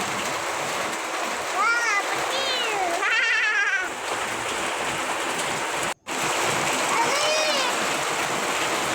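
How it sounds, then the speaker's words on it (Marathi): Heavy rain hisses steadily throughout while a cat meows several times nearby over the downpour. "त्यामुळे पावसाचा भरपूर आवाज होता"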